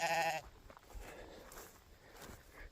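A single loud bleat from a newborn lamb at lambing time in the rain, heard close at the start, followed by quieter shuffling and faint rustling.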